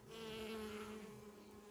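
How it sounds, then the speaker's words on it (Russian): Bees buzz steadily around bellflowers in a spring flowerbed, a close, continuous droning hum with no voices. "Пчелы жужжат, ребята,"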